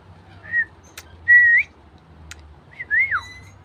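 Rainbow lorikeet giving short, thin whistled calls, three separate notes with pauses, one sliding down at the end, close and fairly clear in a quiet setting.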